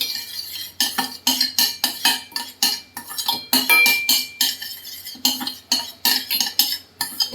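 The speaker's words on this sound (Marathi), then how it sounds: "आता ते ना जरा ब्राऊन कलर होईपर्यंत आपण हे हलवायचं" A spoon clinks and scrapes steadily against a pan as sugar is stirred while it caramelizes to brown, a loud, close, rhythmic series of metallic strokes with brief pauses.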